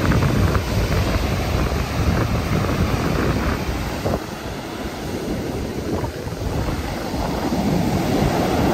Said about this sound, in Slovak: A kúkam, kámo, aké sú vlny.